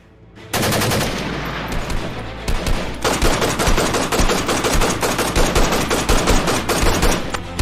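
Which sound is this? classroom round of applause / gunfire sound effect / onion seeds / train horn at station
gunfire sound effect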